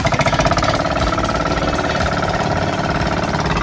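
A motor-driven machine used on a boat for hauling and attaching fish traps thumps away loudly and close, a rapid, steady engine chugging with a rhythmic knocking pulse throughout.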